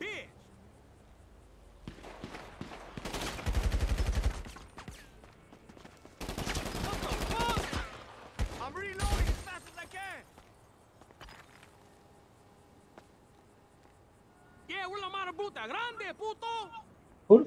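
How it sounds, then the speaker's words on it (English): Gunfire in GTA V Online, several bursts of rapid shots separated by quieter stretches, with a voice talking between them and a short run of game sound effects near the end. "Who the fuck was shooting at me like that?"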